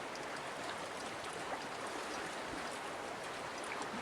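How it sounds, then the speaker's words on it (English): Water is poured into a container of dehydrated beans, making a steady, continuous rushing pour at even loudness throughout with no pauses. "So we'll go ahead and add the water to our beans here up to the 200 mil mark."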